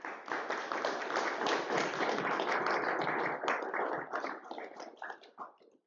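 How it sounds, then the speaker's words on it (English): Dense, sustained applause from an audience at a formal business community meeting welcoming the president of the Asian Infrastructure Investment Bank; it is steady and full, then thins out and fades toward the end. "Warm welcome and applause"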